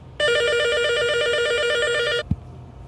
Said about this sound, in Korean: 중간에 전화가 와서 전화벨 소리가 녹음이 됐습니다.